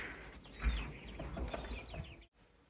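Chicks chirp continuously inside a farm coop under a heat lamp, a dense, moderately loud cluster of high peeps that cuts off abruptly near the end.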